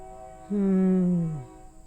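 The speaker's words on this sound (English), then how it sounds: "Do you guys hear the train?" One sustained horn blast from a passing train, about a second long, its pitch sagging as it fades over a low background hum.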